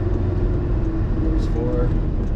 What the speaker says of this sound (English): We'll downshift now and head back home.